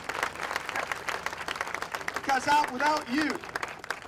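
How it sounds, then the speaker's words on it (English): Audience applause and clapping at a disaster relief drive and clean-up event, a steady crowd patter running under someone speaking over it. "give yourselves a rousing round of applause for what you've done for us"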